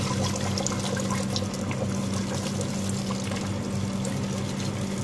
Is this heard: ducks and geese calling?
no